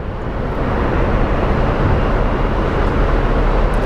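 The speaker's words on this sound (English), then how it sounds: "this little Embraer is headed to Monterey. It's American Airlines" An American Airlines Embraer jet at Phoenix Sky Harbor airport, a loud broadband roar of engine noise sustained evenly throughout, close and without talk.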